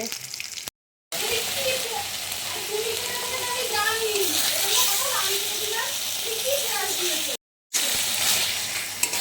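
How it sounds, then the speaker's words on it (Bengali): Fish pieces fry in a pan with a steady, broadband sizzle running underneath continuous nearby talking, with two brief cuts to silence. "দেখো বন্ধুরা মাছ ভাজা"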